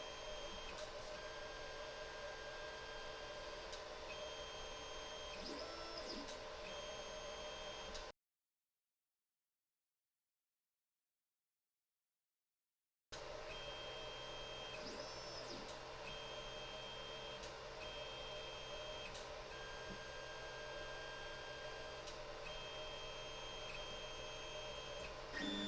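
An Ender 5 Plus 3D printer probes its bed with a BLTouch sensor, giving a steady motor whine with tonal hums and faint clicks and whirs. The sound continues close and unbroken on both sides of a few seconds of silence.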